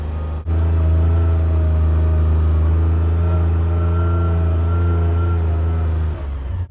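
A four-wheel drive vehicle's engine labours up a steep hill on a homestead farm, a loud steady low drone with sustained harmonic hum that holds nearly constant close by for several seconds before easing off.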